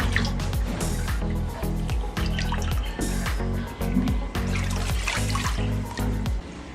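Water pours and trickles continuously while baby molly fish are released into a pond, a steady liquid splashing with drips, loud and close throughout.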